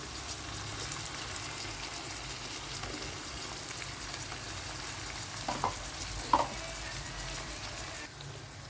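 Ginger paste sizzles steadily in hot oil in a pan for a mutton curry with greens, a continuous fry with a few brief stirring clatters near the middle, no talk.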